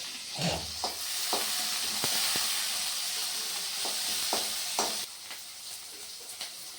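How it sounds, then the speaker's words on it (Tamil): Fresh curry leaves sautéing in a hot pan, a steady loud sizzle and frying hiss with a few sharp stirring clicks and scrapes, no voices. "அப்புறம் ஃப்ரெஷ்ஷான கருவேப்பிலை போட்டுக்கலாம். இது நல்லா வதங்கட்டு."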